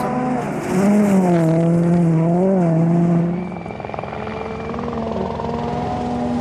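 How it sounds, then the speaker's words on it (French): A rally car on a Finnish gravel stage during the 2013 Rally Finland power stage roars past close by, engine pitch rising and sweeping down as it goes by, then fading to a lower drone. "Très beau passage là ici de Mats Østberg."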